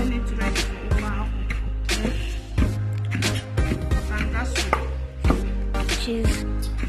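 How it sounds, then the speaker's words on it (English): Cooked palm fruits pounded outdoors for banga soup, heavy dull thuds landing in a steady repeated rhythm close by, with voices talking over the pounding. "she's getting it ready for banga soup, and just finished cooking it, and she's pounding it"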